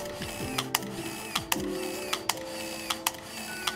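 A Canon AF35ML film compact fires its shutter in burst mode, with sharp clicks paired with whirring motorized film advance, repeating rhythmically and close up.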